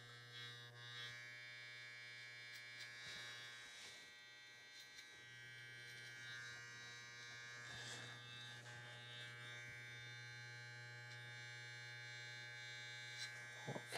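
Electric hair clippers cutting hair during a fade, a steady close buzzing hum throughout with slight changes in tone as the blade moves against the head.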